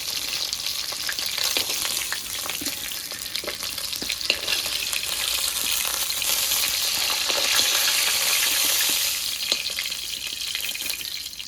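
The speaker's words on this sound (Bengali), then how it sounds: "এভাবে এই মাছগুলোও ভেজে নেব।" Small fish fry in hot oil for a mustard fish dish, with a loud, continuous close-up crackle and bright spattering that swells toward the middle, broken by occasional stirring scrapes.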